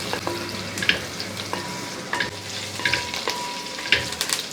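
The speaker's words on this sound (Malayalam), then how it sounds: "കറിവേപ്പിലയും കൂടി ഇട്ട് ഒന്ന് ഇളക്കി കൊടുത്ത് എല്ലാം കൂടെ ഒന്ന് നല്ലപോലെ ഒന്ന് റെഡിയാക്കി എടുക്കണം" Curry leaves crackle and sizzle in hot oil as they are stirred, a steady close frying hiss broken by sharp pops and scraping strokes, with no talk.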